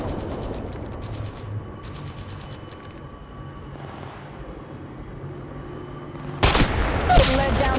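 Gunfire and weapon handling in the video game Apex Legends Mobile, rapid bursts of shots and mechanical clicks and rattles, then a loud burst of shooting near the end.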